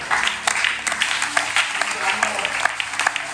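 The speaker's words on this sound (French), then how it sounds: "Applaudissons le Seigneur." A church congregation claps steadily and loudly in a sustained round of applause for the Lord, with rhythmic sharp hand claps standing out near the listener.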